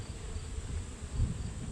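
A faint, low buzzing hum of many honey bees at a hive drones steadily, quiet and close, with no voices.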